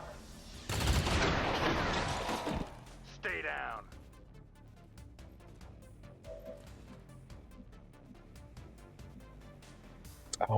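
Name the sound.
gunfire in a video game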